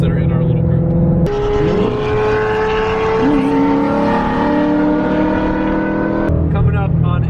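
A Ford GT350 screams along a mountain road, its exhaust rising through sustained high revs with gear-shift breaks, loud and close, and the engine note climbing and settling over several seconds.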